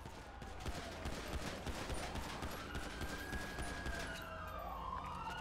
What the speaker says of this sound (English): Shots fired by officers, postal 200, Adams Apple, subject is down.